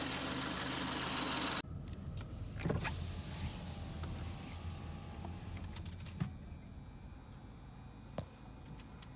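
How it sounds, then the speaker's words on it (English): A steady Ford engine hum cuts out abruptly as auto start-stop shuts it off at idle, leaving a quiet interior with a few small clicks and taps afterward. "So basically, the engine just shut off, right?"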